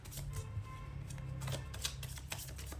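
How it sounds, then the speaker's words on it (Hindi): Tarot cards being shuffled by hand make soft, quiet rustling and riffling bursts that run continuously with faint clicks, close by and without speech. "यहाँ पे शफल कर रही हूँ"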